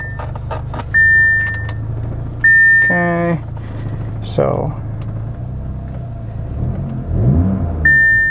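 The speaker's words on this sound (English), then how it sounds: "I'm gonna start the car and make sure that" Engine of an Audi or VW fitted with new spark plugs starting up and settling into a smooth idle, with door chimes, keys jangling and someone talking briefly over the low running hum.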